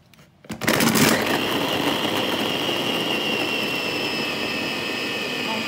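Electric blender running steadily to grind cassava into a paste for a Gabonese cassava and peanut bread, starting abruptly after a brief quiet moment and then holding a loud, continuous whirring drone.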